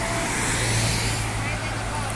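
Purple CAT city bus pulling up at a stop on Thomas Street, a loud close rumble of engine and road noise washing over the scene.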